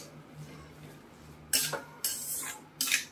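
A spoon clatters in a bowl while gilka (sponge gourd) thecha is mixed with peanut powder: three short metallic scraping clinks in the second half, after a quiet start.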